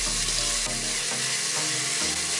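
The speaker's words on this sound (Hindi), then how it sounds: "टमाटर को तेल में अच्छे से भून लेंगे।" Finely chopped tomato sizzles in hot oil in a pan, a loud continuous hiss and crackle with faint stirring scrapes, nothing else over it.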